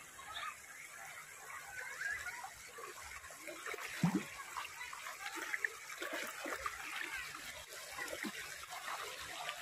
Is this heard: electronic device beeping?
no